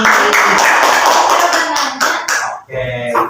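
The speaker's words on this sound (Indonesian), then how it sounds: "Kita kasih tepuk tangan kepada Tasya karena udah bertanya nih" Classmates clap for a student named Tasya, a loud close burst of hand clapping that fades out partway through, followed by a little talk.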